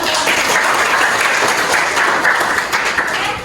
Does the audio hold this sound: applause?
yes